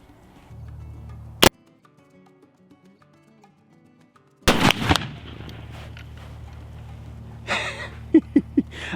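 A Sharps 1859 Carbine black powder rifle fires one loud, booming shot with a short rumbling tail, preceded by a sharp isolated crack and followed by faint clicks and handling noise.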